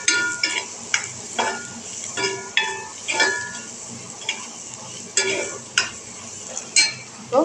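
Bitter gourd sautés in hot oil with turmeric and chili powder, with a soft sizzle under repeated scraping, stirring strokes and light metallic clinks from a spatula against the pan, close and fairly loud.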